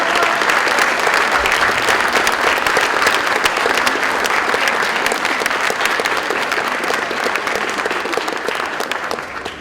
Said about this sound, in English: So help me thank them by standing up, turning around, and giving them a round of applause.